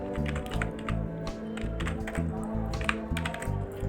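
Fingers type an Aadhaar number on a computer keyboard, a steady run of quick, fairly soft key taps with a few heavier clacks, close by with a faint background hum.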